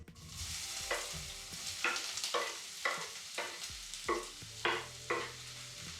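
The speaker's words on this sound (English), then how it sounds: "my pan is already warm, so I'm going to add in the onions right away" Chopped onions sizzling in olive oil in an already warm pan, a steady bright frying hiss broken by a regular series of stirring scrapes, close and fairly quiet with no voices.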